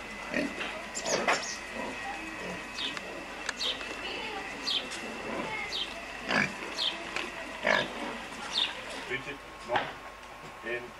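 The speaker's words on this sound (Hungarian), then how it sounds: "Hét malac, és egy anya." A sow and seven piglets grunting on a farm in Hungary, repeated short grunts and squeals at close range, with people talking over and between them.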